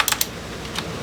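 Quick clicks of a laptop keyboard under fast typing come in a short uneven burst, close and crisp, with a brief lull before a final few keystrokes.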